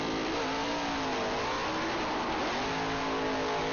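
A drag race car launches down the strip: a 1985 Ford with a 302 taking on a 2012 Cobra Jet. A continuous loud engine roar climbs in pitch through the gears, with no talk over it.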